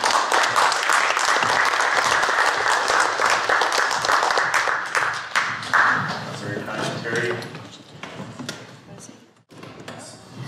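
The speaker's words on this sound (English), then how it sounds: "Give you a big round of applause" Audience applause welcoming Irwin Oostindie to the stage at a talk on settler cultural policy and reconciliation, a full sustained clapping crowd that gradually thins to scattered claps and a few thuds.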